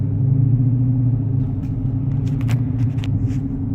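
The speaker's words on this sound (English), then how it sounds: "why do you want an 800 horsepower car here in Miami? For this shit, bumper to bumper traffic?" A car engine rumbles low and steady in bumper-to-bumper Miami traffic, a close idling drone that runs throughout, with a few faint clicks and ticks over it near the end.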